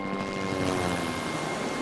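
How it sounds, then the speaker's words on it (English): A helicopter in the video game Metal Gear Solid V: Ground Zeroes makes a steady, droning engine and rotor whine, moderately loud and continuous with no talk over it. "Helicopter?"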